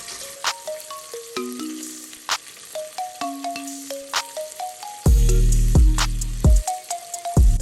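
Shrimp deep-frying in hot oil for bang bang shrimp tacos, a steady close sizzle with denser bubbling bursts toward the end, under light background music.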